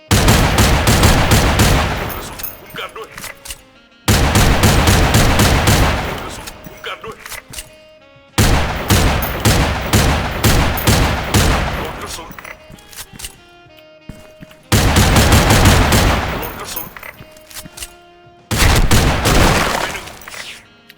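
Chrome Desert Eagle pistol fired in the online shooter Special Force 2, loud close bursts of rapid shots in five separated volleys with brief gaps between them.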